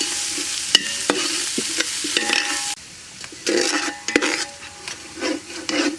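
Spices frying in oil with prawns, a bright sizzle under repeated scraping and stirring of a spatula against the pan, the hiss falling quieter partway through, no voices.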